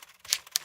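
Two quick, crisp keystrokes on a keyboard, close and clear, tapped in fast succession with no voices.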